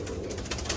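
Fancy pigeons on a large pigeon farm coo in soft, overlapping murmurs, close and steady, with a brighter burst of cooing near the end.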